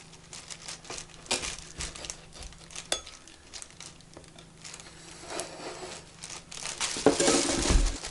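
A knife slicing and peeling the plastic shrink wrap off a vinyl record, heard as close crinkling and tearing crackles in irregular bursts that grow louder and busier toward the end.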